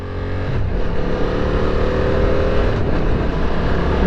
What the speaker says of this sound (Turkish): İlk önce Quick Shifter kullanarak vites değiştireceğiz.